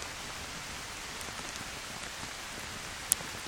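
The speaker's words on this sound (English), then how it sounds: "As today the rain falls" Steady rain falls in a continuous broadband hiss, with scattered drops ticking and one brief sharp drip standing out near the end, no voices present.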